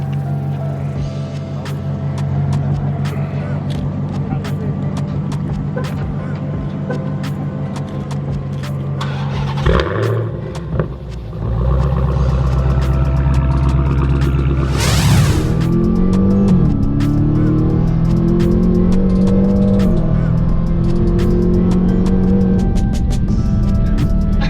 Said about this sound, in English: we're gonna jump in the Hellcat, go do some pulls